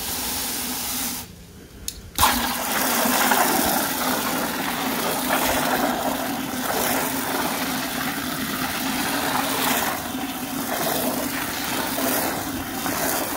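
Water hose on a jet setting blasting into a stockpot to wash sediment down, a steady broad hiss that runs continuously after a brief pause near the start.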